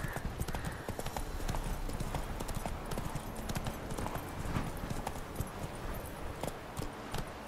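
Roach, the horse in The Witcher 3, gallops in a steady, rapid clip-clop of hooves that runs the whole time, close and even, over continuous game ambience.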